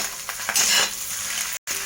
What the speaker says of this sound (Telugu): ఇవైతే బాగా ఫ్రై చేసుకోవాలి